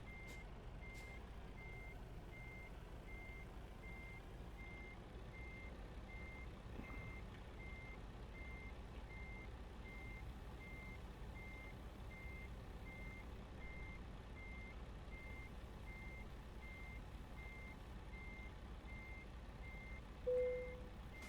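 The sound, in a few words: truck reversing beeps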